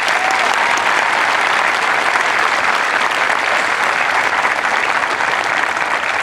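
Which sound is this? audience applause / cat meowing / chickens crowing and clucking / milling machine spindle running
audience applause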